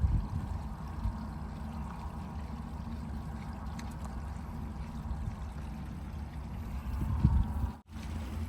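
Gray water from an RV's shower tank drains out in a steady, low gushing rush, heard up close and continuing for several seconds with a brief dip near the end.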